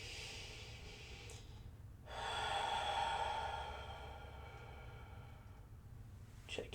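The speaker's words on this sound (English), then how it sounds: "Keep taking a lovely breath." A slow, deep breath drawn in and released during a singer's neck and shoulder stretches, a long airy inhale swelling then fading, close and soft with no talking.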